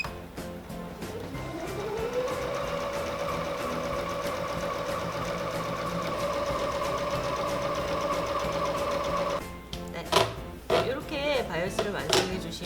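A sewing machine runs steadily, stitching twice-folded 4 cm bias tape with a constant whirring hum, then stops and gives way to a few handling clunks and rustles.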